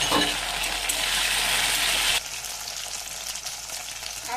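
Taro pieces hiss and sizzle loudly in a hot pan of oil with fennel, fenugreek and nigella seeds, a dense close frying roar that drops to a steadier, quieter crackle partway through.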